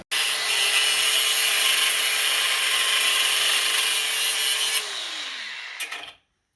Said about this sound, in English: we've got to get under there with the Sawzall